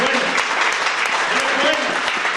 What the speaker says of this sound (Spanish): Den un aplauso a Él, es bueno.